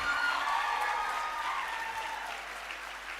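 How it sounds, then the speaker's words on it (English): An audience at a homoeopathic medical college event in Bagalkot applauds in a dense, steady wash of clapping that fades slightly toward the end, heard alone without talk. "A big round of applause,"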